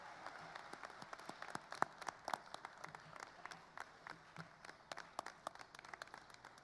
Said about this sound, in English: please continue that round of applause until all of our valedictorians and salutatorians have been